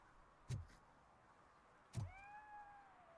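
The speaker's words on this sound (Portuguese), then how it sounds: "Olha que gatinho bonitinho." A cat meows inside the video game Robocop: Rogue City, giving two short, faint calls about a second and a half apart over quiet game ambience, the second followed by a soft rising tone.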